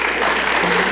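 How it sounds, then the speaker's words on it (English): An audience at a Lakewood, Colorado State of the City presentation claps in a dense, steady burst of applause, brief and loud, with no distinct voices. "I don't even have to ask the audience for a round of applause"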